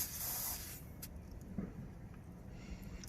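Air hisses out of a vehicle tire through a screw-on tire deflator once its pin is pulled. A loud, sharp spray of air at the start settles into a steady, close, continuous hiss, with no talking.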